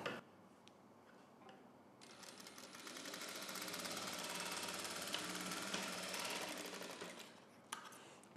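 A sewing machine stitches along markings on a blouse, a steady fast mechanical whir running several seconds between faint clicks, close and fairly quiet, with no talk.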